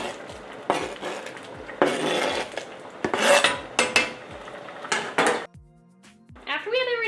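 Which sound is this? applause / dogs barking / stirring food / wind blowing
stirring food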